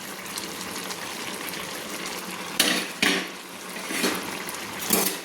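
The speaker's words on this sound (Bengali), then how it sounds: "দিয়ে আমি ভালো করে সুন্দর করে আমি নেড়ে নিচ্ছি।" A utensil stirs fried shrimp with spinach (pui greens) in a pan, a steady wet scraping hiss broken by a few louder scrapes and clatters against the metal, close by and with no voices.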